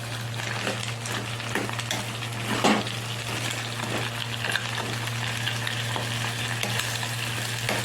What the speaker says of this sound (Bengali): আলু বেগুনটা ওই তেলের সাথে আমি ভালো করে ভেজে নেব,